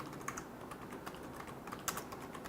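Continuous typing on a computer keyboard, quick soft key taps at a steady pace for a couple of seconds, close and fairly quiet, no voice.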